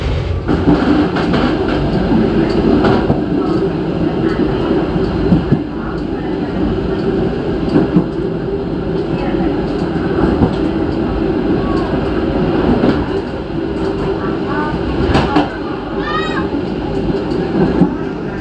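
KA Pangrango passenger train pulling away from Cibadak station in Indonesia, heard from inside the carriage as a loud continuous rumble of wheels and rails with faint squeals, steady throughout.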